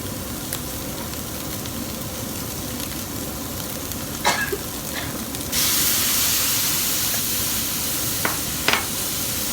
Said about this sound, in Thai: Put a little water